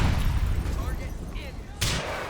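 A rocket launcher explosion in GTA 4, a sudden loud blast near the end after rumbling gunfire and traffic noise, with someone talking excitedly before it.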